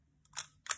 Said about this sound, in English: you can see the shutter open for just a quick second